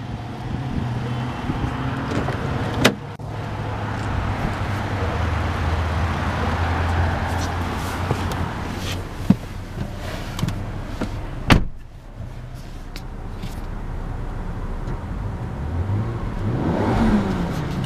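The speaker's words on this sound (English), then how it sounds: "You can hear a little turbo blow-off valve noise." A 2012 Volvo XC70 T6 engine idling and revving, with sharp bursts and a sudden release, likely the turbo blow-off valve, sounding mid-distance over a steady hum before another rising rev at the end.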